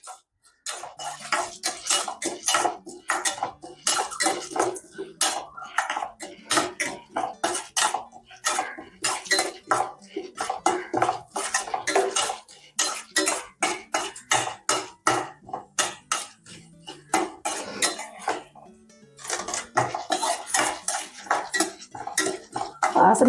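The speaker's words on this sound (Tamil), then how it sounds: "துவரம் பருப்பு அதில் போட்டு நல்லா வாசனை வர்ற வரைக்கும் வறுத்துடுவோம்" Dry toor dal roasting in a pan on a high flame, stirred steadily so the lentils rattle and scrape against the metal in quick, continuous bursts, close up with no talking.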